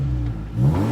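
A 2011 Ram pickup engine runs and revs up, its deep mechanical hum dipping slightly before rising into a louder, climbing rev over about a second, heard up close.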